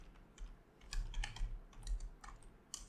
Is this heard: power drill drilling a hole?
no